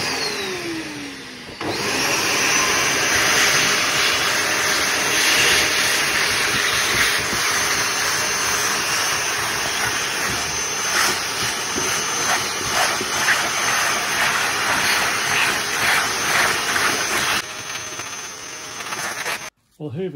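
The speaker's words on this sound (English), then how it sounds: "I think I can just probably scrape and hoover at the same time." Vacuum cleaner hoovering crumbly red foam off a Lotus Elan +2 while it is scraped, a loud continuous whooshing drone with scraping rattles, running nearly throughout before cutting off near the end.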